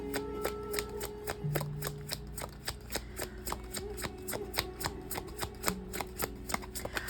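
Tarot cards are shuffled steadily in a quiet room, a rapid run of crisp riffling snaps and flicks close to the microphone, with soft faint tones lingering underneath.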